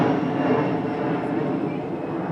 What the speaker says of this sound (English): Another airplane.